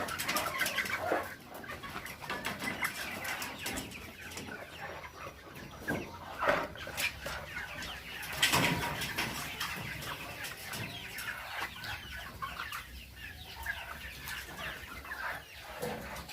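A flock of young laying hens in the grower stage clucking and cooing nearby while they eat, a busy, continuous chatter with occasional louder calls and no talking.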